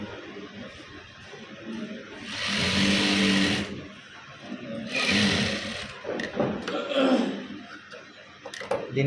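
A sewing machine stitches a gusset side pocket in two or three close whirring bursts of a couple of seconds each, with someone talking softly between and over them.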